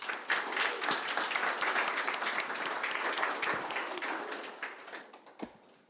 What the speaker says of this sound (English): Let's give a nice warm round of applause for all of our speakers today